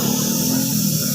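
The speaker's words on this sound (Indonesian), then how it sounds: "kita langsung semprot saja cat warna merah candy-nya seperti ini" A spray gun lays candy red paint onto motorcycle parts, giving a continuous close, loud hiss with a low steady hum beneath it.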